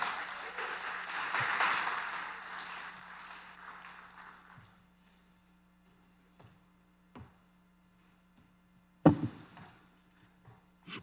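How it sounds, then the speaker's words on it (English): A large summit audience in Miami applauds loudly at first, then the clapping thins and fades over a few seconds into near quiet, broken only by a few scattered knocks and one sharp thump. "Let's have a round of applause."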